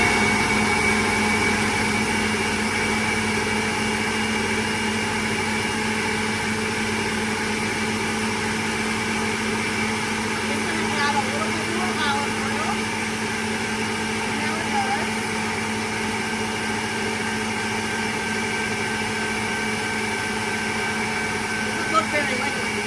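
Blender running steadily while liquefying an olive oil dressing for a breakfast bowl, a continuous loud motor whir with faint clatter throughout.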